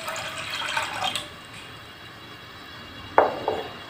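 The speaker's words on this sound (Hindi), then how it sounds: "यहाँ एक सॉस पैन में मैंने 1 कप पानी ऐड कर दिया है और 1 कप पानी मैं और ऐड करूँगी।" Water poured from a cup into a saucepan while making apple jam: a brief splashing fill near the start, then quiet, and a short sharp liquid splash near the end, close and fairly soft.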